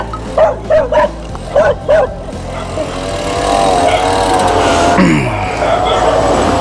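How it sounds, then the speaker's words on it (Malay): Dogs bark in a village near Penampang, a run of five loud, sharp barks close by, followed by a low mechanical rumble and a rising whine from a passing vehicle. "Ada anjing juga."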